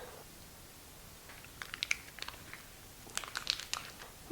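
A sharp knife slices through the end of a 7-ounce almond paste package, giving a few soft crinkling, crackling bursts of plastic wrapper close by in a quiet room, with no talking.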